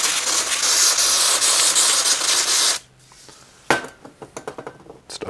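Speed Clean brake cleaner sprayed onto parts of a Giant Cypress bicycle: a loud, steady aerosol hiss for nearly three seconds, then sharp metallic clinks and small knocks of the parts being handled.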